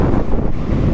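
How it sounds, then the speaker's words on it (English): Strong wind of around 70 km/h roars straight into the microphone on a motorcycle trip between Monument Valley and Moab, a loud, dense, continuous rumble with no pauses and no voices. "the wind was picking up"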